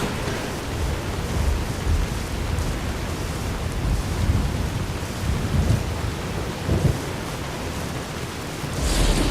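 Steady heavy rain hisses throughout with low rumbling thunder underneath, loud and continuous, in the Fallout: New Vegas video game.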